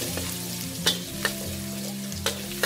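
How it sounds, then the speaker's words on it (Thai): Chopped garlic frying in oil in a pan on medium heat, a steady close sizzle with a few sharp clicks of a spatula against the pan and a low background hum. "ใส่กระเทียมไปเจียวเลยค่ะ"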